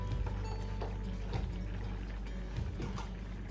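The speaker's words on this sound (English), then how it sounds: "Going to just add a little bit of my vegetable broth to it." Vegetable broth poured from a container into a cooking pan, a continuous liquid splash and gurgle of a few seconds, close and fairly loud, with faint kitchen clatter.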